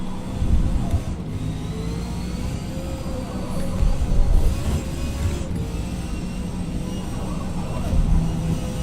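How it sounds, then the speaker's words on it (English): Race car engine in the Forza Motorsport video game, held near full throttle. It gives a steady, droning mechanical whine that swells and dips slightly while staying continuous and prominent. "Almost full throttle through there."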